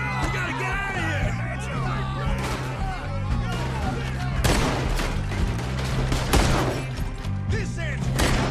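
A Red Dead Redemption 2 shootout crackles with dense, overlapping gunfire, sharp shots and rapid bursts mixed with thuds, while shouting voices and score run underneath throughout.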